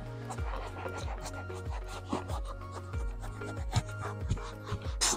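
Someone scrubs a leather car seat with cleaner, the brush rubbing in a steady back-and-forth rhythm of quick, close scratchy strokes, with a low repeating tone underneath throughout.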